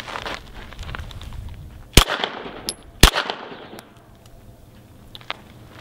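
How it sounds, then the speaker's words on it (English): Two sharp handgun shots fired about a second apart in a defensive shooting drill, loud and close, each followed by a brief echoing decay over faint background noise. "He aims, fires, aims, fires again."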